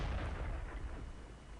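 An E-25 tank gun firing in a tank video game produces a deep, rolling boom that rumbles steadily and fairly faintly through the whole short moment, with no voices.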